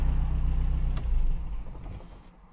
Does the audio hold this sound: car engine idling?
yes